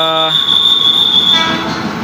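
A 12-car KRL JR 205 commuter train at Metland Telaga Murni station sounds a short horn toot, followed by a sustained high tone and rail noise on the platform.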